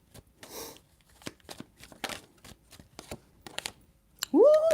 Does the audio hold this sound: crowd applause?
no